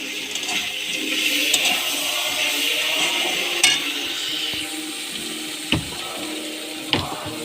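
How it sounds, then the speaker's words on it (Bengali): Crabs and figs fry together in a pan, giving a soft continuous sizzle with occasional scraping stirs and a few sharp clicks, fairly quiet and close. "একসঙ্গে আবার ভেজে নেবো সব।"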